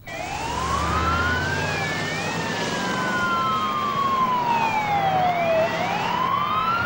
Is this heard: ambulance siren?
yes